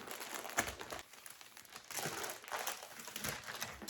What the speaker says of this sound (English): We're just going to rip right into this.